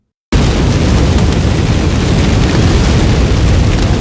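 After a moment of silence, a loud, dense roar of forest fire fills the space, crackling and rushing continuously without a break.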